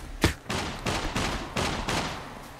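Gunfire in the survival game SCUM, one sharp near shot followed by five or six evenly spaced, echoing shots from farther away, with no talking.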